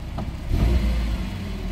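A Toyota minivan engine idles after its PCV valve has been cleaned, giving a steady low rumble with a slight swell partway through, heard close and alone.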